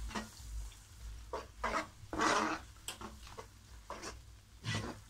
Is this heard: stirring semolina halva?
yes